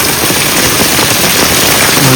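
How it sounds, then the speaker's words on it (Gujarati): Heavy, continuous rain pours all night at a rural home with a cattle shed, a dense, loud, even roar of drops striking surfaces close by, steady with no talking. "અત્યારે ફૂલ ચાલુ છે વરસાદ જોઈ લો તમે"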